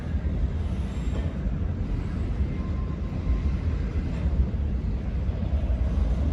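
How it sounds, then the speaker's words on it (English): A grain freight train crossing a bridge gives a steady, heavy rumble and rolling roar that holds at an even level throughout, with no voices. "Grain train."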